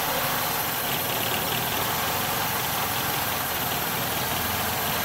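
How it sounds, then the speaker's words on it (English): A 1998 Honda Accord 2.3L engine idles steadily during an EGR flow test, giving a dense, continuous broadband rumble with no talk, loud and close throughout. "I'm just gonna do this and see how the engine reacts"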